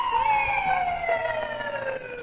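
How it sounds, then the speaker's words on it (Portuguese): An ambulance siren sound effect plays loud and close, a sweeping electronic wail that glides steadily downward in pitch, heard alone. "pedindo para colocar para ela a sirene da ambulância da carruagem de fogo"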